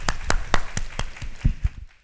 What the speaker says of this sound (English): I'd like to give a round of applause to both of our panelists, David and Amir, today.